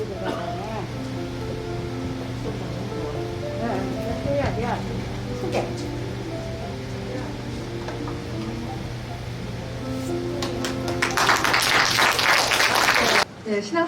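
An audience applauds at a Daejeon braille library's 2022 literary anthology publication event: a burst of clapping swells near the end over a steady background tone and soft music, then cuts off abruptly.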